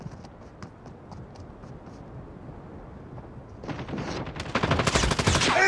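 A sentry gun firing in a video game: faint spaced clicks and taps at first, then a loud rapid stream of automatic fire building in the last two seconds.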